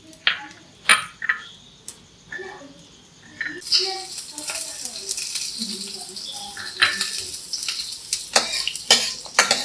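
Mustard seeds hitting hot oil on a gas stove for a Kerala-style green gram curry, a few clinks and stirring sounds at first, then a sudden steady crackling sizzle that continues close up.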